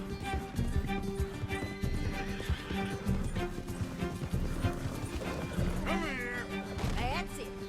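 Horse hooves clip-clop at a gallop with a sharp neigh near the end in the video game Red Dead Redemption 2, loud and busy, layered under game dialogue and a player talking.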